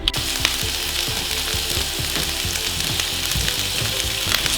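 Meat frying in a pan, cooked for a cheap student noodle meal, with a steady loud sizzle throughout and scattered crackles and pops, no talking.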